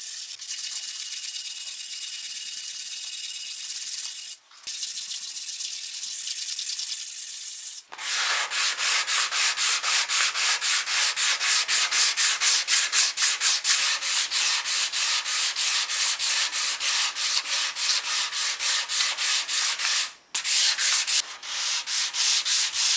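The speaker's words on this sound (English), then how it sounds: "that's all sanded now to 240" A guitar body being sanded to 240 grit by hand, steady scratchy rubbing strokes that start softer, then turn louder and faster, with brief pauses between passes and no talking.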